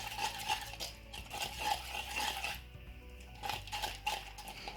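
A utensil stirring slime mixed with dish soap in a bowl, repeated close scraping and clinking strokes, quiet and steady, with no voices.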